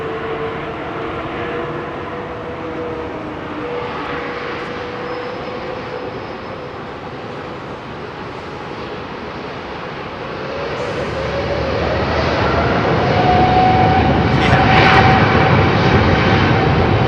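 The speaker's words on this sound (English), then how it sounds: "Lots of them going up. Long run out for the long takeoff" Jet airliners take off at London Heathrow Airport, a distant engine roar that swells louder over the last few seconds as a climbing whine rises.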